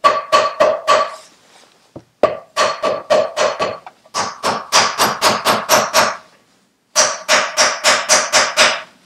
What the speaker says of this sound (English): So I think with a gentle tap,